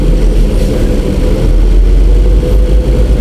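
A motorcycle engine idles steadily on a Quezon City street, a loud, continuous low rumble throughout with no talk.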